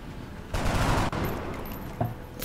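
Burst of gunfire in the turn-based strategy game X-COM: Enemy Within, a loud rattling volley lasting about half a second, followed by a fainter echoing tail and a smaller thump.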